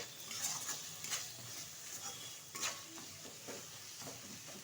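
Spice paste sizzles in a kadai for a Bengali loitta fish and brinjal jhal, fried and stirred at moderate volume with soft scraping strokes and a few light utensil knocks, no one speaking.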